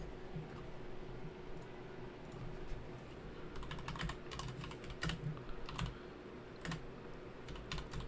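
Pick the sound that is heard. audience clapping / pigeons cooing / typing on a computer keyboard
typing on a computer keyboard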